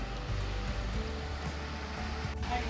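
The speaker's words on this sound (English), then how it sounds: "Coming up on the first waterfall." A waterfall at Salt Springs in Pennsylvania gives a steady, broad rushing roar of falling water that runs unbroken through the whole short stretch, with no voices.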